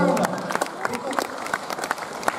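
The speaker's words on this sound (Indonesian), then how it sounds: "Boleh tepuk tangan dulu." A small audience at an Indonesian community presentation claps briefly, a scattering of hands that fades into sparse, uneven claps with a few people murmuring.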